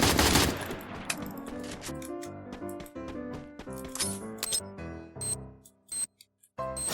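Rapid gunfire in the video game Free Fire crackles in dense bursts, thinning into a few scattered shots and pauses toward the end.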